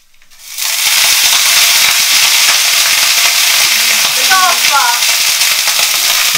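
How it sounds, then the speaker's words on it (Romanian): Broccoli added to hot olive oil with garlic in a pan bursts into a loud, steady sizzle that continues without pause, with a brief voice faintly underneath. "După ce am prăjit usturoiul în uleiul de măsline, voi pune broccoli"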